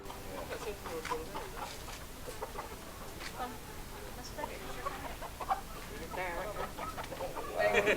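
Ayam Cemani chickens, a local Indonesian breed, cluck and cackle in scattered bursts close by, with people talking faintly underneath.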